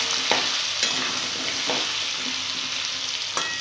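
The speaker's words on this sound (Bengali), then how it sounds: "একটু নুন দিয়ে দিচ্ছি, একটু হলুদ দিয়ে দিচ্ছি। ভালো করে নাড়াচাড়া করে ভেজে নেব এটাকে।" Whole potatoes fry in hot oil with salt and turmeric in a home kitchen, giving a constant hissing sizzle, while a utensil scrapes and stirs the pan in a few distinct strokes.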